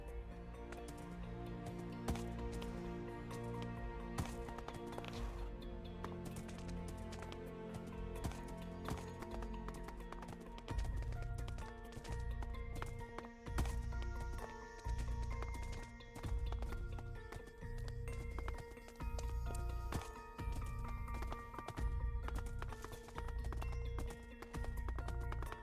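Horse hooves in modded Minecraft, a rhythmic clop pattern under game background music, growing more regular and pronounced in the second half.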